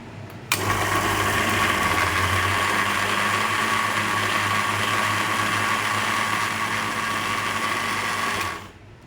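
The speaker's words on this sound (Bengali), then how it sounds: "পেঁয়াজটা এবার আমি বাটবো।" An electric grinder or blender purees fried onion into paste, a loud, steady whirring motor hum that starts abruptly, runs continuously for about eight seconds, then winds down and stops.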